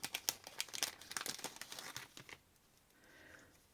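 Paper crinkling while a package is unwrapped, a burst of close, sharp rustles and crackles for about two seconds that then fades to near quiet.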